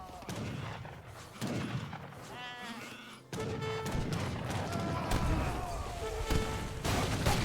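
Sheep bleat repeatedly amid a busy Age of Empires 3 soundscape with bursts of gunfire-like bangs and clatter.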